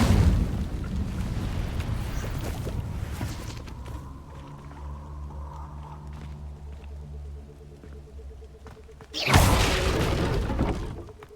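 A fire spell, Incendio, cast in Hogwarts Legacy, a loud crackling whoosh bursting out near the end after a quieter stretch of rumbling ambience, close and forceful.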